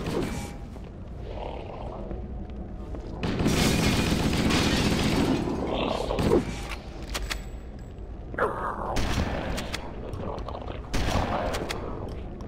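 Flood enemies fire guns in Halo: Combat Evolved, rapid bursts of gunfire with thuds and whooshes spread over several seconds, loud and close, against eerie ambient game sound.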